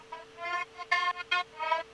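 An alarm sample from a Splice pack used in music production: a synthetic, buzzy tone sounds in short repeated pulses of uneven length, clear and fairly quiet, with no other sound behind it.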